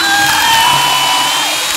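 Whining comedy dental drill on teeth, a steady high-pitched electric whir that slowly glides in pitch, held loud and continuous for about two seconds.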